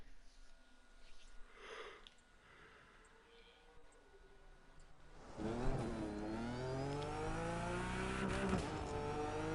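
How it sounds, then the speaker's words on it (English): A BMW i8 Stellar Edition in The Crew 2 starts as quiet, muffled driving noise and then surges into a loud electric-hybrid engine whine that climbs and shifts through gears, steady and close for the remaining seconds. "another BMW i8 Stellar Edition this time"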